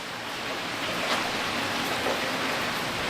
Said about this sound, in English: Mexico in the rain is not great, but it's refreshing.